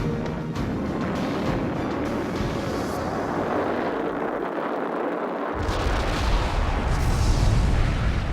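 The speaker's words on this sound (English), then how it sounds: "When Vanguard exploded" Vanguard rocket exploding on the launch pad: a loud, sustained roaring blast that rumbles continuously, dips briefly in the lows, then swells again with heavy low-end force.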